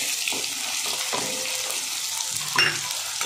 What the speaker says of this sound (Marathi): आता कांदा चांगला परतून घ्यायचा, लालसर होईपर्यंत